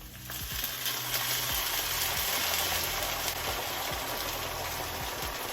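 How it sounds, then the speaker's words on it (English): Chopped tomatoes hit a hot pan of browning beef meatballs, giving a steady, close sizzle and frying hiss that holds at an even level with a few soft stirring knocks and no talking. "Go ahead and add our chopped tomatoes."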